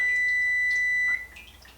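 A steady electronic beep tone from a kitchen timer or appliance sounds for about a second, then cuts off, leaving faint room noise with some clatter.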